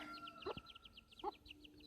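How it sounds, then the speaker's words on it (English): Silkie chicks about two weeks old peep in rapid high chirps alongside a hen, which gives a couple of soft low clucks; quiet and close, with no talking. "So these chicks are almost 2 weeks old. They're silky."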